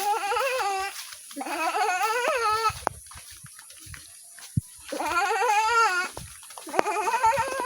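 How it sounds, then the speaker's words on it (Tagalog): Goats bleat loudly and close by on a rural holiday farm in Bicol, several wavering calls in two bursts separated by a quiet gap with faint clicks and movement. "Tapos itong kambing."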